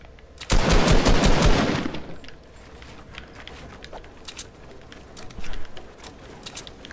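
Automatic assault rifle fire in Fortnite: a loud, dense burst of rapid shots lasting about a second and a half, followed by fainter scattered distant shots and clicks.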